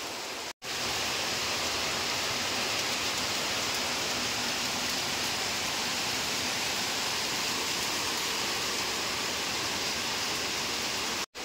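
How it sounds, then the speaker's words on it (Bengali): Heavy rain falling outside, a dense continuous roar of downpour that holds steady and close throughout, with no talking. "আর এখানে খুব প্রচুর বৃষ্টি হচ্ছে, তো তোমাদের সাথে একটু শেয়ার করি বৃষ্টিটা"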